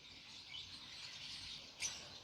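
Many small lovebirds chirp at once in a faint, high, constant chatter. One sharper chirp stands out near the end.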